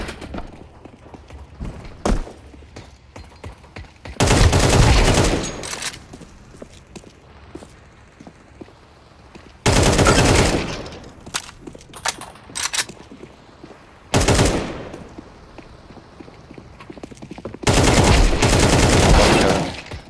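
Loud bursts of gunfire from a weapon in Counter-Strike 2, several sustained volleys spaced across the stretch with quieter gaps of game noise between them, no talk over the shots.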